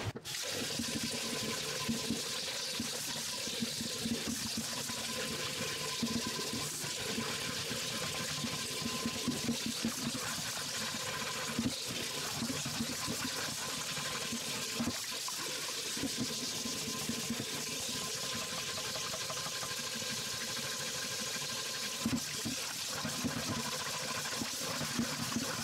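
Hot water runs steadily from a kitchen tap while a well-seasoned cast iron pan is scrubbed with steel wool, a continuous soft hiss and splash with faint scraping textures throughout.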